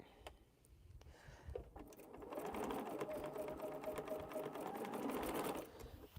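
A sewing machine stitches a thread spool cap for a quilting project, a quiet close whirring run that starts after a brief pause and continues steadily for several seconds.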